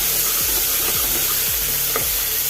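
Chopped tomatoes and ginger garlic paste sizzle steadily in a pan with hissing oil, while a spoon stirs them in four or five regular scraping strokes, close and loud.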